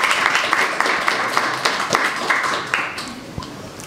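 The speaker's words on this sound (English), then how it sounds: "So please give him a round of applause." Applause for a speaker at a blockchain developer event, sparse and fairly close, with a handful of distinct claps and taps from a small audience that gradually thin out.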